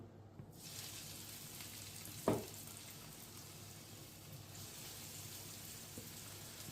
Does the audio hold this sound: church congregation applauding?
no